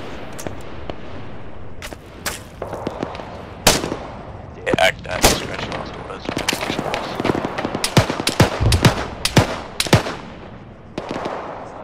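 Gunfire in the military shooter Arma 3, with dense volleys of sharp rifle and machine-gun shots and heavier booming blasts, some close and loud, others distant, with voices talking intermittently.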